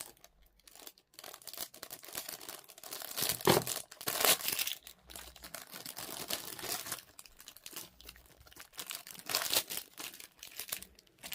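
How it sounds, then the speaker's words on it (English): Plastic and paper packaging crinkling and tearing as a gift doll with a smock dress is unwrapped, with bursts of loud close rustling and ripping between quieter pauses, no talking. "Let's take the packaging off."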